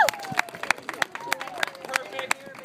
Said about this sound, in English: Give her one last round of applause